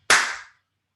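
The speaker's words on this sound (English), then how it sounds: "I'm going to do some clapping" A single sharp hand clap rings out close and alone, then fades quickly into silence.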